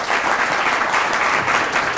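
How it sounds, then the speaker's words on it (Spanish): Sustained audience applause fills a literary talk at a book fair, a dense, even wash of clapping from a large crowd with no speech over it. "Un fuerte aplauso."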